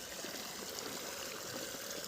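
Irrigation water runs through six channels cut across a wheat field on sandy, gravelly soil. The flow is a faint, even, continuous rush, with no voices.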